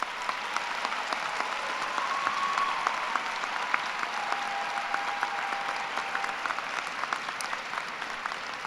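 Audience applause at a college arts, media and design class of 2022 graduation celebration, a dense, even clapping from a large crowd sustained throughout, steady and moderately distant.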